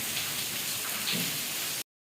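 Steady rain falls in a continuous soft hiss, moderately close and fairly quiet, with no voices, before cutting off abruptly.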